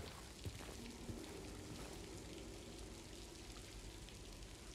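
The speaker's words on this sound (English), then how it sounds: "There's the roof when it's raining." Steady rain falls on a roof in the Silent Hill 2 Remake video game, a dense continuous patter at an even level with a few sharper drips, and no voices.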